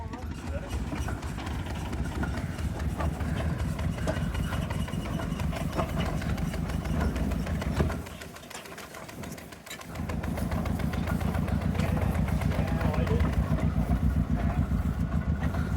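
A century-old heritage locomotive engine on the LCLR runs steadily with a low, throbbing mechanical drone, dipping briefly midway before resuming loud and close, with people talking over it.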